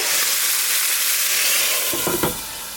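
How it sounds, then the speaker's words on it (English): Burgers frying in a pan at home, giving a steady close sizzle throughout with a couple of brief clatters near the end. "Okay, so we have the burgers cooking,"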